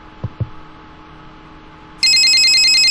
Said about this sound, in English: I hope that phone shuts off anytime soon